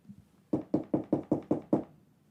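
Seven quick, evenly spaced knocks rap on a door, close and clear, after a faint soft tap, with no talking.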